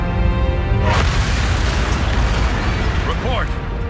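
A deep boom rolls through the ship as an antimatter charge detonates aboard in Halo: Combat Evolved Anniversary, followed by sustained rumbling and low roaring under the noise of the game.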